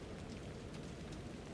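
Steady rain falls in Alan Wake 2, a dense, even hiss of drops on surfaces that stays constant and moderately loud throughout, with no voices.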